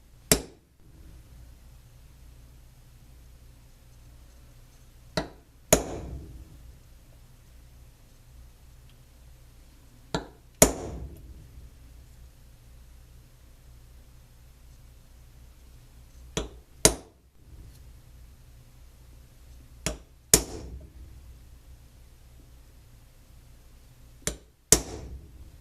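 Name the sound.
punching hole positions in a box mod enclosure before drilling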